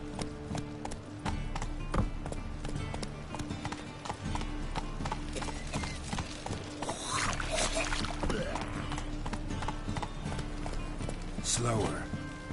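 Hoofbeats of Roach, Geralt's horse in The Witcher 3 on PS5, a steady clip-clop of trotting hooves close by, with someone speaking over them and a few brief neighs or snorts.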